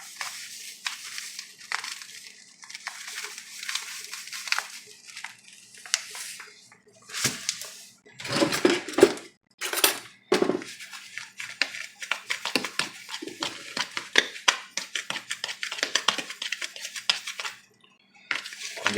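Dry black pepper, cayenne and cornmeal stirred together in a bowl, giving a steady run of scraping, gritty swishes and light clinks from a utensil, close and fairly quiet, with no one speaking.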